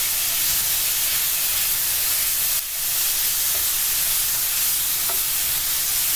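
Loud continuous sizzling of a ground-meat mixture sautéed in a pan with garlic, onion and spices, a dense frying hiss with a brief stir midway and no talking.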